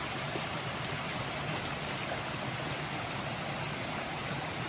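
Clear mountain stream water flows with a steady, soft broadband rush along the Appalachian Trail, continuous and even without voices.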